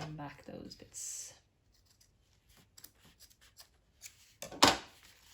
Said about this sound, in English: now I will trim back those bits